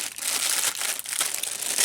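Packaging crinkles and crushes continuously in close, loud handling noise, with parts being unwrapped from a car model kit of Infiniti console pieces.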